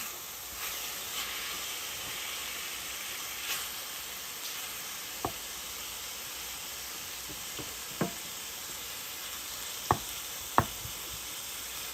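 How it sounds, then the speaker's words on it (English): Beef sizzles steadily in a dry pan with no oil, a continuous broad hiss and crackle with a few sharp pops near the end, no voices over it. "it started to fry"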